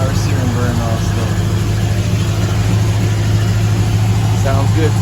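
A 1966 Buick Wildcat's engine runs close and steady after a Super Turbine 400 transmission install, a constant low rumbling hum, loud and even throughout, with a voice heard over it.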